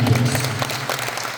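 A congregation at a healing service bursts into a short round of clapping, a dense crowd of hands heard close and fairly loud for just over a second.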